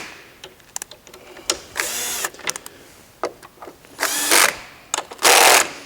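Small screws being backed out of placeholders on a DynaCon conveyor metal detector with a power driver, several short bursts of high whirring separated by clicks and light metallic taps, close and fairly loud, no talking.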